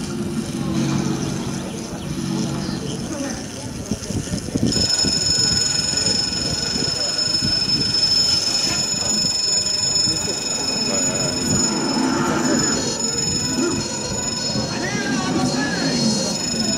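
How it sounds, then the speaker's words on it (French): A train rumbles past close by at Libourne, a loud steady roar with metallic whine and high-pitched rail squeal over a low rolling drone. "Il y a des trains, il va passer très vite."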